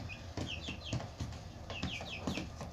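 A Svarthöna hen clucks in short, repeated bursts, close by, with soft rustling and bumping sounds between the calls.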